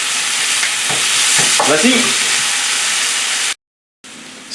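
A beef and bell pepper stir-fry sizzles loudly and steadily in the pan with a few stirring scrapes, then cuts to silence before the sizzle briefly returns; a voice speaks once.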